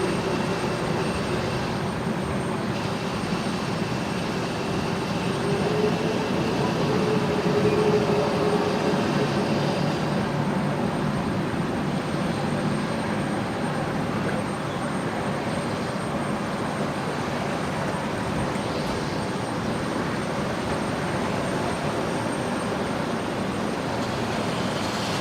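An aircraft taxiing at Brisbane Airport at night produces a steady, distant engine whine and broad roar that holds evenly throughout with no voices.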